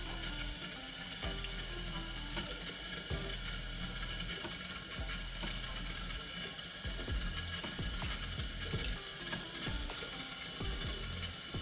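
Tap water runs steadily over hands being rinsed at a sink, a close, continuous splashing hiss with small shifts as the hands move through the stream.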